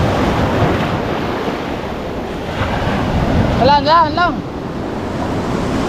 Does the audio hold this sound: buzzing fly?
no